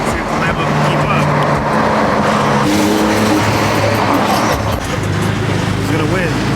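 A Porsche Turbo S and a Lamborghini accelerating hard side by side in a race, loud roaring engines rising through gears with tire noise, close and continuous, with people talking and exclaiming over the engine noise.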